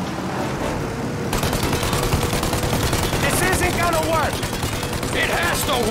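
Rapid bursts of gunfire in the video game Mafia: Definitive Edition, dense repeated shots fired at an aircraft's engines, loud and continuous over game noise with brief voices.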